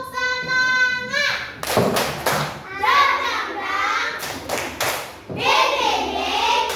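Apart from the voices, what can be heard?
tepuk semangat, rhythmic spirit clapping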